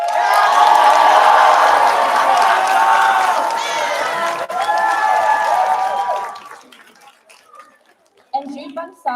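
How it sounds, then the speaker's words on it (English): A large audience at the UCSB Pilipino Culture Night theatre stage show applauds and cheers the actors in a dense, sustained roar that fades out after about six seconds. A few voices follow in the quiet. "Now let's give a round of applause to our amazing actors"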